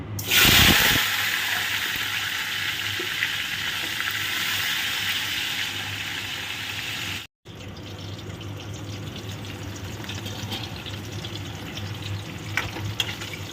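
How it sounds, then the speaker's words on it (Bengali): Cut potatoes frying in hot oil for a vegetarian corn and cabbage dish, a steady dense sizzle that runs loud and unbroken, cuts out briefly midway, then resumes with scattered crackles and faint clinks. "যে আলুগুলো কেটে রেখেছি সেই আলুগুলো এবার ভেজে নেব।"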